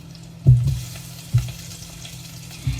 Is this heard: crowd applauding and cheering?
no